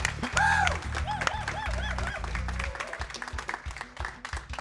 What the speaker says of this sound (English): So huge round of applause for that